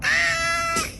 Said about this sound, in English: That's not Mr. Boom. That's just a cat compilation